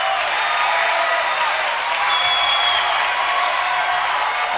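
A high school wrestling crowd in a gym, Paulsboro fans at a 2002 dual meet against Phillipsburg, cheers and applauds loudly in a sustained, dense roar.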